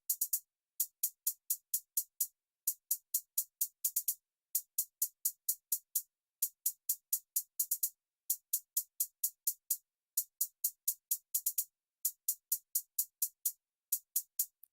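Basic trap hi-hats play alone, crisp high ticks in rapid groups of five to eight separated by short gaps, repeating evenly throughout at a steady moderate level.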